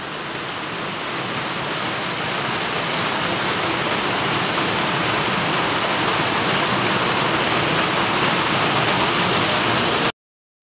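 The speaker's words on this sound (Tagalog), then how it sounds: "Dito po ay malakas ang ulan, po ah." Heavy rain pours down in a dense, steady hiss throughout, loud and unbroken, before cutting off abruptly.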